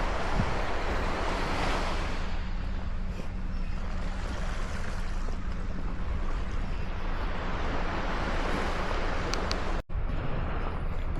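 Ocean surf on Ebisu Beach in Aichi roars as a steady, loud wash of breaking waves mixed with wind rumbling across the microphone, with no pauses throughout.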